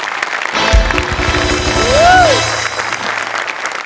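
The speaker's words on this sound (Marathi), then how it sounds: "दोघांसाठी मी उभा राहून टाळ्या वाजवतो." Studio audience applause on a Marathi comedy show, a broad wash of clapping and crowd noise that swells near the middle and holds steady throughout.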